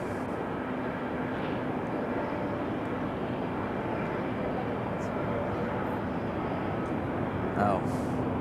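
A Breeze Airways airliner lifts off the runway at Raleigh-Durham International, heard as a steady, broad jet engine roar that holds for the whole stretch from a distance, with faint voices in the background.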